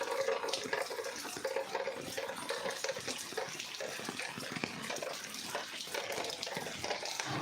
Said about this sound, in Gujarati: ચક્કડીએ પાણી આવી ગયું છે એટલે આપણે ઢમ ભરીએ છીએ